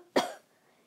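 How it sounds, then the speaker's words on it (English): One short, sharp cough, close and clear, that quickly fades into quiet. "Mama coughs,"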